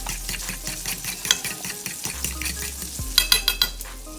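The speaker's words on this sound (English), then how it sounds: "Let me put this bacon over because it's cooking mighty fast" Bacon sizzles and crackles in a hot pan at close range, with stirring and a few clinks of cutlery against cookware near the end, and no talk.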